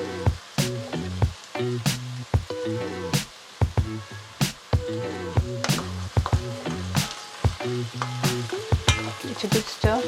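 Tofu stir-fry with soy sauce and hot chili sauce sizzles steadily in a hot pan, broken by frequent sharp clacks and scrapes of a utensil stirring, close and continuous with no talking.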